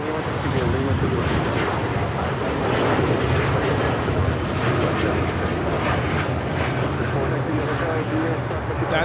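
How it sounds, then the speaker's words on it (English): An Aeromexico Boeing 787-9 Dreamliner takes off from Los Angeles airport, a continuous loud jet engine roar with rumbling texture, with a voice talking over it. "That is Aeromexico 647 taking off to Mexico City on the 787-9 Dreamliner."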